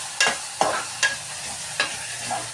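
Tomatoes being sautéed in a pan for an egg dish, with four sharp scraping stirs of a spoon over a low sizzle, close and distinct.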